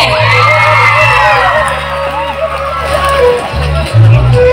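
A large crowd at a Bihu festival gathering in Amolapatty, Dibrugarh, whoops, yells and cheers loudly and continuously, with an amplified voice booming through the noise.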